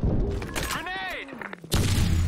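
A grenade blast in a video game on a power plant map: a rising and falling tonal whistle, then a sudden loud, close, broadband boom that rumbles on to the end.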